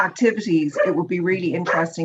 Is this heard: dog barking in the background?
yes